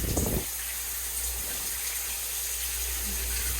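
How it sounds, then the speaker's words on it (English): Hotel shower water gushes steadily at a Holiday Inn & Suites in Orlando, a loud continuous hiss and splash with a low rumble underneath, running without pause for the whole stretch. "I especially love that I can turn the shower on from here"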